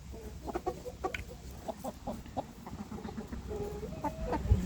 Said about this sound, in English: Chickens can be ruthless. They just peck at each other.